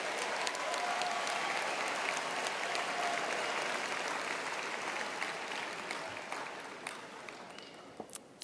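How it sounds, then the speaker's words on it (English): A graduation crowd at Northwest High School's 2014 ceremony claps in a dense, sustained wash of applause that fills a large hall, steady at first and then gradually thinning out near the end. "You already clapped."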